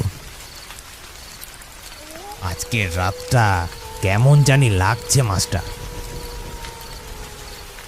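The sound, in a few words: rain falling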